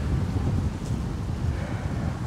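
Steady wind buffets the microphone on an outdoor disc golf course, a continuous low rumbling roar with gusty swells that holds for the whole stretch with no voices.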